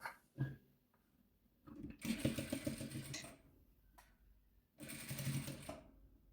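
An electric sewing machine stitches pieces of patchwork fabric in two bursts of fast, even whirring and clatter, separated by a pause with a faint knock.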